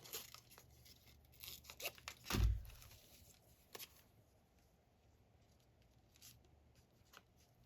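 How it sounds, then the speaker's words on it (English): Scissors snipping through paper to cut out a word for a junk journal, a series of close, quiet crisp cuts and rustles with one louder crunching snip near the middle, with no talking. "I think I'm going to cut this word out"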